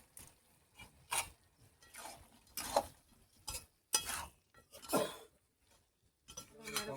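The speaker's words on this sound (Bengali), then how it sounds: "আমি এখানে আলুগুলা দিয়ে দেবো, আলু ভাজি নিই" Potatoes dropped into a hot pan and stirred as they fry, with intermittent bursts of sizzling, scraping and clinking of a utensil against the pan, separated by short quiet gaps.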